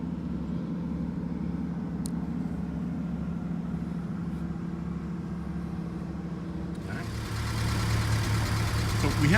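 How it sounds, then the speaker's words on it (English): A 1958 MGA 1500 Roadster's engine idles steadily with a low, even hum, and the pitch and level rise slightly near the end as it picks up or is revved a little. "So we have the engine running."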